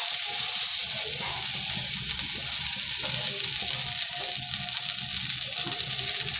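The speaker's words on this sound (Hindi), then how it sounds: "एक तवा रखा है, इसके ऊपर हल्का सा मक्खन लगाएंगे।" Butter sizzling on a hot tawa griddle as burger buns toast, a steady loud bright hiss and crackle throughout, close up and continuous with faint stirring underneath.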